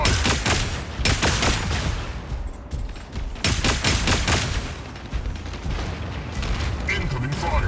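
Gunfire from mech combat in the video game Mech Arena: dense, rapid bursts of shots and booms keep going almost without pause, loud throughout, with game voice callouts over the barrage.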